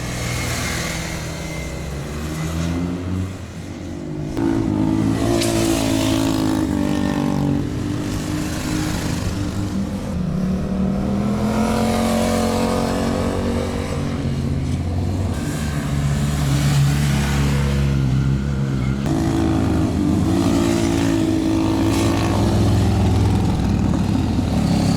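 A Yamaha MT-09 motorcycle racing at a track day near Suvarnabhumi, its loud engine droning and revving continuously up close, with shifting pitch as it accelerates through corners.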